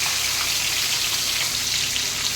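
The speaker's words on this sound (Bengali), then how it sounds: "বেশি ভাজবো না, হালকা করে শুধু ভেজে দেবো।" Prawns frying gently in hot oil in a pan, an even, dense sizzling hiss held steady the whole time with no talking.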